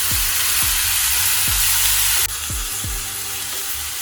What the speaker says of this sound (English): My oil is hot, and to it I am going to add in the beetroots and the carrots.